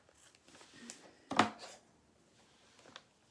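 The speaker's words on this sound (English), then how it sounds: "I've got 10 pair of scissors or something over here." Scissors labor through craft material, one sharp snip standing out amid faint scraping and rustling, quiet and close with no talking.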